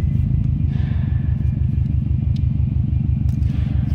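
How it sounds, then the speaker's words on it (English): A 2015 Subaru WRX STI sedan engine idles steadily with a deep, throaty exhaust burble, its low rhythmic pulses loud and close from the rear, with faint clicks over the top. "Slip around to the rear of this and hear it run. Throaty exhaust note to it."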